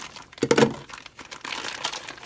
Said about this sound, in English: What I do is I just cut the ham out of the packet.